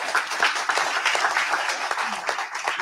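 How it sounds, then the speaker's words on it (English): A seated audience at a local politics talk applauds journalist Tom Sherwood and DC Councilmember Elissa Silverman, with close, loud, continuous clapping and sharp individual claps standing out throughout. "give a round of applause to journalist Tom Sherwood and DC Councilmember at Large"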